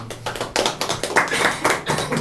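A small group claps at a live podcast recording about a used-furniture business, producing quick, uneven clapping with distinct individual hand strikes close to the microphone over a couple of seconds.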